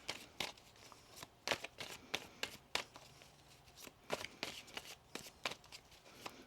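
Tarot cards riffled and shuffled by hand in repeated quick bursts of crisp, papery flutters and slaps, close and alone with no talking.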